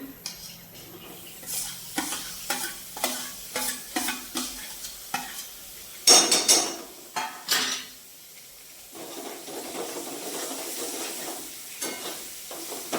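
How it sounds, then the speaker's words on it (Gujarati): Tomatoes fry with onions and spices in a pan for paneer bhurji, sizzling under repeated scraping stirs that come in short bursts, with a few metallic utensil clinks. "હવે જો આપણે ટામેટા એડ કરી દઈએ"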